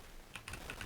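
A computer keyboard is tapped in a short quick burst of a few faint keystrokes, close and quiet, with no voices.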